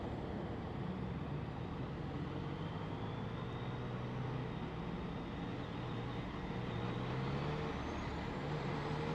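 Road traffic rumbles around a Yamaha FJ-09 motorcycle crawling slowly through a jam, a dense steady wash of nearby engines and tyre noise with faint rising whines from passing vehicles, no talking.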